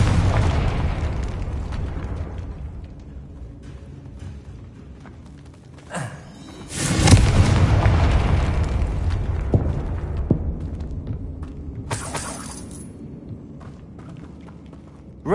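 Confringo blasting curse explosions in Hogwarts Legacy, a sharp burst around the middle followed by a loud rumbling boom that slowly fades, with a brief crackling flare later and scattered game effects throughout.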